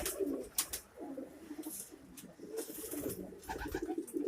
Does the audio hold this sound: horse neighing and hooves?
no